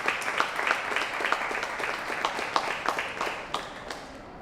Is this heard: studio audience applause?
yes